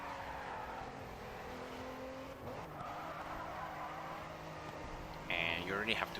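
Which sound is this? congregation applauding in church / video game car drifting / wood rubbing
video game car drifting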